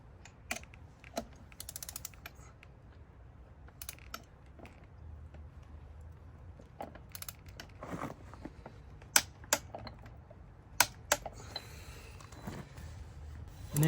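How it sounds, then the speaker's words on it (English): A torque wrench tightens the outer hub nut on a Dynatrac XD60 axle to about 55 foot-pounds, giving faint, repeated ratcheting clicks at an irregular pace in a quiet workshop. "So now this outer nut, I'm going to torque to about"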